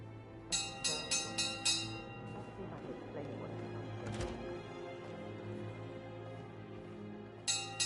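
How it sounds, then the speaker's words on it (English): A bell rings in Hitman 3 in a burst of about five quick bright strikes, then again briefly at the end, over a steady game ambience with a few thumps between. "Now, why's the bell ringing?"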